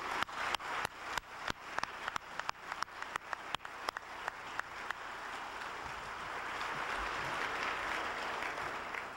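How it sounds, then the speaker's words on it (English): An audience claps through the first half at a hall of fame induction ceremony, a sharp, rhythmic, individually distinct clapping that turns into a dense, sustained roar of applause filling the room. "I wish to honor each of them with a personal round of applause."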